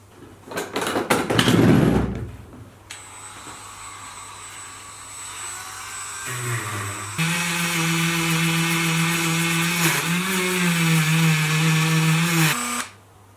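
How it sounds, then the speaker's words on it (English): A small high-speed Dremel rotary tool with a wire brush attachment whines steadily up close, its pitch shifting as it grinds, after a brief clatter at the start. "I've got a Dremel with a little wire brush attachment"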